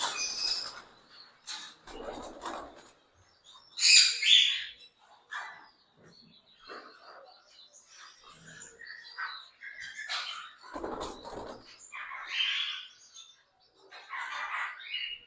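Ring-necked parakeet breeder pair at an Islamabad pet bird market, giving scattered sharp chirps and squawks among other bird calls, with one loud burst of calling near the middle and quieter background noise throughout.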